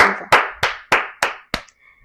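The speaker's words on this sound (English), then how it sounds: "I clap hands for myself" One person claps their hands six times in a steady, evenly spaced rhythm, each clap sharp and close, with the final clap slightly softer and no talking.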